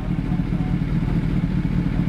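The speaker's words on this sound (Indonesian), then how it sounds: "itu tadi suara tanpa DB killer" A Kawasaki ZX-10R 2021 with an Arrow exhaust and dB killer removed idles with a deep, steady burbling exhaust rumble, loud and close, throbbing evenly throughout.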